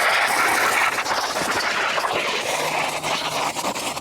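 Hose jet spraying water to clean out a solar robotic pool skimmer, a loud continuous hissing spray with shifting intensity and no talk.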